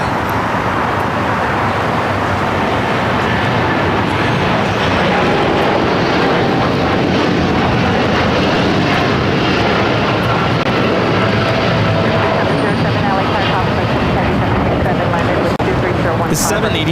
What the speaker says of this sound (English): 787-10 Dreamliner taking off to Tokyo Haneda, flight 39 with United Airlines